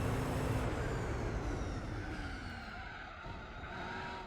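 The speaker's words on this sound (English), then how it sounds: "this car is literally so fast that the tires start clipping into the ground" A Group C race car in Gran Turismo 4 runs at speed with its rear tires scrubbing against the track, a sustained engine drone with a faint grinding, squealing edge that fades slightly, without speech.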